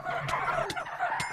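Chickens in Minecraft cluck and squawk in a busy overlapping flurry of short calls, fairly close, with no talking over them.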